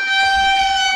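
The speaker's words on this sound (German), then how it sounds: "Eine Tröte." A party horn blown on New Year's Eve gives one loud, steady, buzzing toot held close up for about a second.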